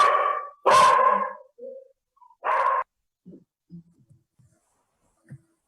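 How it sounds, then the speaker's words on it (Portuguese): A small female dog barks in a few loud, close bursts near the start, followed by quieter scattered yips and whimpers, with no talking over it. "A cachorrinha aí, né, Antônio?"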